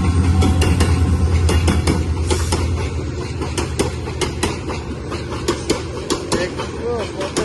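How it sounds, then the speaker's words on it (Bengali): A large train rumbles past close by with rhythmic clacks of wheels over rail joints and a low engine drone that eases slightly, while people talk over it. "দেখছো কত বড় ট্রেন?"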